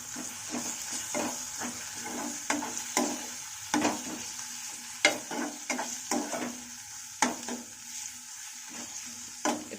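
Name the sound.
stirring potatoes with garlic paste in a frying pan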